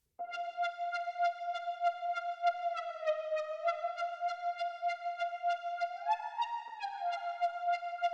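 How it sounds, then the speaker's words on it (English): A single saw-wave synth lead line holds a bright buzzy tone with rapid pulsing, gliding smoothly down and back up between notes with portamento, played alone. "And we bring in what is effectively a sort of lead synth."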